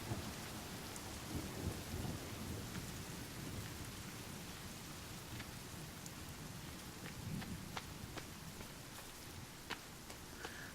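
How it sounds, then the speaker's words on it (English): A thunderstorm with steady rain in the survival video game The Forest, with a constant hiss of rainfall, low rolling thunder rumbles and scattered sharp drop sounds, moderately quiet and without voices. "Well, it was wonderful until the storm decided to come in."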